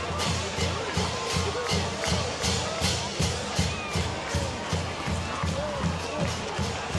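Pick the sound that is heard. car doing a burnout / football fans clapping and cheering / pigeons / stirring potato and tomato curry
football fans clapping and cheering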